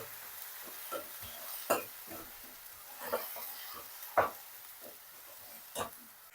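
Onions and garlic paste fry in a pan. A soft, fairly faint sizzle carries occasional sharp spoon scrapes and taps at uneven gaps, over a hissing background.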